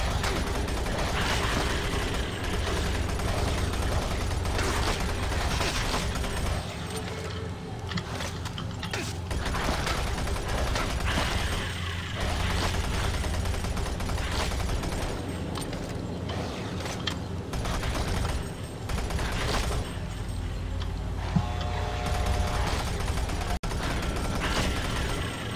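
Weapon fire in Doom 3 BFG Edition rattles almost without pause: dense mechanical clatter and rapid shots over a constant loud background of game noise.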